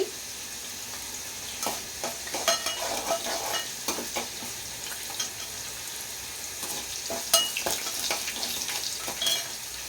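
Onions frying with salt in a pan for dal, a steady close sizzle broken by repeated scraping stirs of a spoon against the metal, with no talking.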